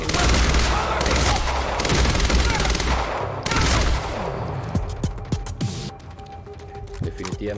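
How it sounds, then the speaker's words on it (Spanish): Rapid gunfire in the video game Quantum Break rattles in dense loud bursts, then thins into scattered single shots and clicks while someone talks over the action. "le estoy disparando en la cabeza"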